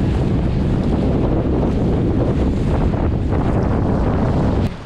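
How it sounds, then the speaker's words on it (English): Strong wind roars and buffets the microphone at a beach kayak surf launch in La Jolla, a loud, steady rumbling gust noise with faint surf beneath and no talking. "Wind picked up a little bit."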